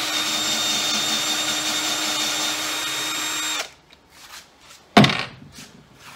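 A power drill whines steadily and loudly while threading a hole in the frame of a homemade fishing seat box, then cuts off abruptly, leaving a few faint handling noises and one sharp clack.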